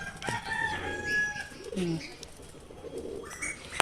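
Madras pigeons in a hobbyist's collection give soft cooing and throaty calls at close range, with a few brief, higher bird notes over a faint background.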